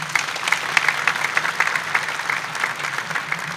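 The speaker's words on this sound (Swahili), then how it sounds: "Naomba tuwapigie makofi mengi sana." Steady audience applause at a meeting honouring its organising committee, a dense, even wash of many hands clapping together for a few seconds without voices.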